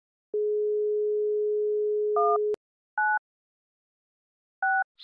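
A telephone tone signals that no outside line is available: a long, steady, clean beep, then three short dual-pitch beeps separated by silence, clear and electronic.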